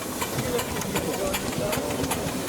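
Steam traction engine at a rally, giving a steady broadband hiss of escaping steam with faint rhythmic chuffing pulses, fairly close and continuous, with murmuring voices in the background.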